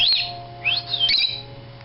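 A pet bird out of its cage chirps and tweets in quick bright bursts, several short calls and squawks close by with no talking over them.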